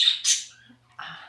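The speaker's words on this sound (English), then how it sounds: "Sorry about the noise of the birds." Birds squawk and chirp at dawn along a trail: two loud, close squawking calls open, a quieter pause follows with faint chirps, then another burst of calls.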